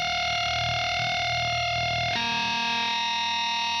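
Guitar harmonics ring through heavy distortion as a loud, sustained, buzzing tone, with a second harmonic chord struck partway through that shifts into a harsher, dissonant drone.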